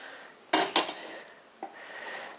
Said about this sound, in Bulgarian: Да обереме от тенджерата какво е останало.